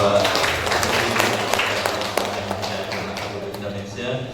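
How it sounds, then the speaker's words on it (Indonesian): Audience applause at an Indonesian madrasah teachers' gathering in Kutai Kartanegara, a few seconds of scattered claps and taps that thin out toward the end. "Boleh tepuk tangan dulu untuk Bapak"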